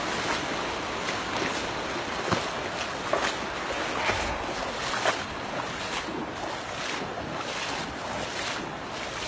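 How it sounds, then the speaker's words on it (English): Floodwater runs across a concrete slab on an Oregon farm after heavy rains, making a steady, close broadband rush that stays continuous throughout, with a few brief louder splashes and no voices. "this is the slab I always tell you we get water running across"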